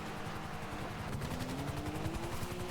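Rapid automatic gunfire from a helicopter in GTA 5, a fast rhythmic burst of shots over the continuous chopping drone of rotor blades, dense and steady throughout.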